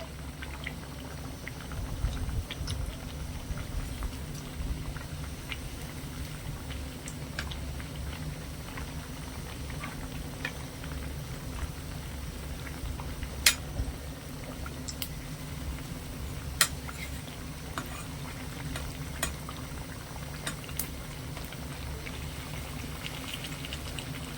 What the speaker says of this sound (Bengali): ওই পিঠটাও খুব সুন্দর করে মুচমুচে করে ভাজা করে নেবো